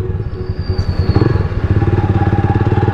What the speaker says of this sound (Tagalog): Nakapagmotor din.